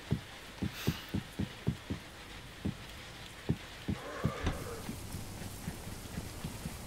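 Rain from the video game DayZ falls steadily in the background, with a soft patter beneath a series of regular, close thumping beats and a faint hiss. It is quiet overall, and no one speaks.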